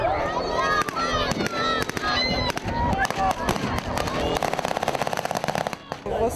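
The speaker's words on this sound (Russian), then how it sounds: "За период, что он длился, прогремели десятки взрывов." At a battle reenactment, rapid bursts of gunfire and sharp blasts crackle in dense volleys, mixed with shouting voices and honking calls, growing into fast automatic-style firing toward the end.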